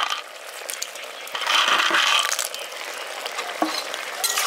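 Village-style potato, drumstick and fried bori curry with green chillies and mustard paste is stirred in a sizzling pan, a close run of scraping and bubbling with a louder burst of stirring midway; no speech.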